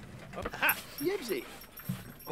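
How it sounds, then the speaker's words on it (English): A puppy in The Sims 4 gives short whimpering yips and soft barks, brief and fairly close, mixed in with speech and game sounds. "let's go play with the puppy"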